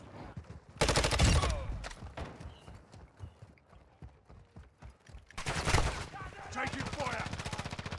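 Sniper and automatic gunfire in DMZ come as two loud, sharp bursts of rapid shots separated by quieter footsteps and movement, followed by a sustained stretch of busy background noise.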